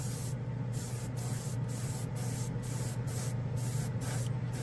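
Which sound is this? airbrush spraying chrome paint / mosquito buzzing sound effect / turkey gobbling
airbrush spraying chrome paint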